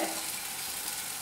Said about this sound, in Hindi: जब हमारा ऑयल गर्म हो जाए, फिर हम लहसुन और अदरक को डाल देंगे पहले